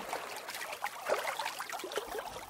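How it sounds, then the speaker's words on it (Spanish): Gentle flowing water trickles steadily through a calm meditation soundscape beside a lotus-flower pool, a soft continuous dribble with small bright splashes, moderately faint and alone. "escuchas la vibración del agua"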